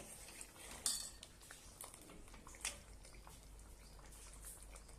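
Metal spoon scraping and clinking against a pan while serving cooked pigeon pea curry, a few sharp taps and scrapes close by, quiet overall with no talking.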